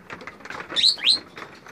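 Birds chirping at feeding time, with two quick, bright chirps close together standing out over a soft background rustle.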